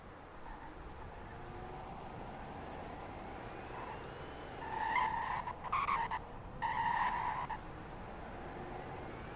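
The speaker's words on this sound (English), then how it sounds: "Here's what it sounds like starting up. Here's what its horn sounds like. And here's what it sounds like to drive." A 2020 Celestial Type-5 car in the Roblox video game gives a low, faint engine drone, broken midway by two bright bursts of horn-like tones, with a few sharp clicks scattered throughout.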